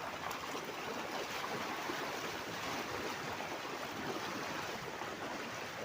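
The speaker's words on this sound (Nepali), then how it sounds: "यहाँ पानीको आवाजले गर्दाखेरि हाम्रो साउन्ड आउँदैन होला" A small stream flows outdoors, its water rushing in a steady, dense, even wash that carries on without a break and with no voices over it.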